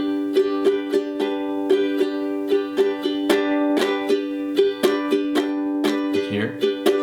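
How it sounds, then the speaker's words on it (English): Ukulele strummed in a steady rhythmic pattern, bright repeated chord strokes close and clear with no voices. "That's when we just simply start hitting the ukulele with that strumming."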